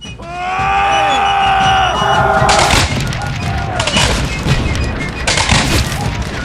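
Battle scene in a short film: booming gunfire and explosions crash over a whistling, descending tone, then a dense, continuous barrage of shots fills the rest, loud and close.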